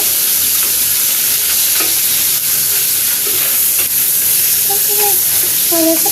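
Fish frying in a pan, a loud, steady sizzle and hiss close up, with occasional scrapes as it is stirred and a few faint voice sounds in the background.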